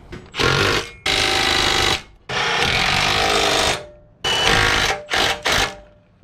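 On a Honda CRX, a power tool tightens traction bar bolts in loud, close bursts of rapid hammering rattle of about one to two seconds each, separated by short gaps, with two quick final blips.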